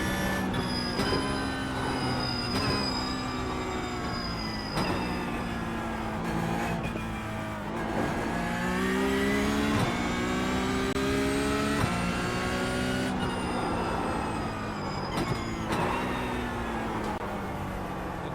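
A Toyota GR86 race car engine in the iRacing video game at Okayama, revving loudly and steadily with rising and falling pitch sweeps as it shifts through gears, heard alone without any talk.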